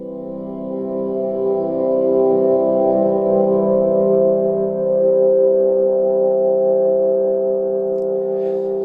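A single sustained note from UJAM Virtual Guitarist CINEDREAM, a guitar-based synth plugin, with a rich, layered tone swells and slowly evolves, holding steadily for several seconds before fading slightly; alone, no voices.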